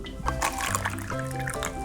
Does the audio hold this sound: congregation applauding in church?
no